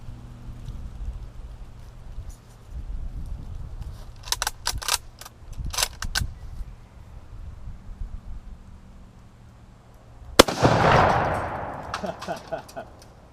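A Mosin Nagant Type 53 rifle with a sporterized stock is loaded with a run of sharp metallic clicks and clacks, then fires one loud, close shot with a rolling echo trailing away outdoors.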